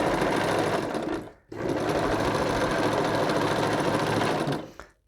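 A sewing machine stitches in a fast continuous whir, pausing briefly once before running again and then stopping.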